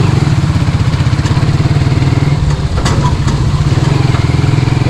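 A new motorcycle's engine idles steadily nearby, a continuous low, even chugging pulse held for the whole stretch with no other sound over it.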